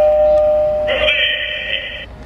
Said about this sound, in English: They have a spider doorbell.